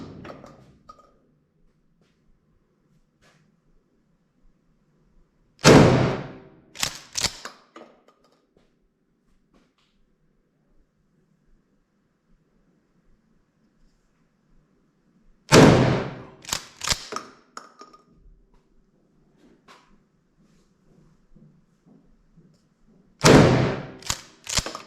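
Gunshots at a shooting range in Riga, three loud close bursts of several rapid sharp cracks each, about ten seconds apart, with quiet stretches between them.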